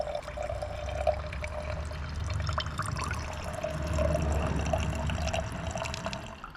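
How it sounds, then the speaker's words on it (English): Old fuel mixed with water draining from a lawn mower gas tank: a steady trickling, dripping pour with occasional splashes over a low background hum, continuous and moderately quiet. "Take a look at what's coming out of this gas tank."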